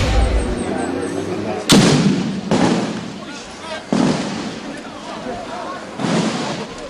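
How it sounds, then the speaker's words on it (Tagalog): Loud blasts from fighting near Lustre Street in Barangay Santa Catalina, Zamboanga City: a sharp close explosion followed by several more heavy bursts at intervals of about one to two seconds, with voices underneath. "Ginulantang ng isang pagsabog ang hanay ng media malapit sa Lustre Street sa Barangay Santa Catalina, Zamboanga City"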